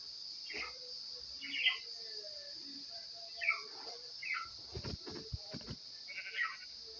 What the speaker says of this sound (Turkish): bir tane koyun sesi geldi